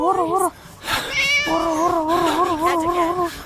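A cat meows repeatedly in the Scary Teacher video game, with a short cry followed by a longer drawn-out wavering meow, loud and close, alongside other game sounds.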